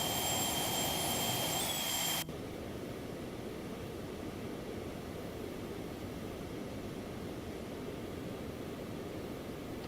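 Steady broadband roar of a jet-powered aircraft engine in flight in a flight game, loud and continuous; a high whining tone over the first two seconds then drops away, leaving an even rushing drone.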